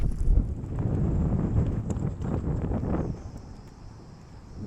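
Strong wind at the lake shore buffets the microphone in heavy, rumbling gusts that ease toward the end.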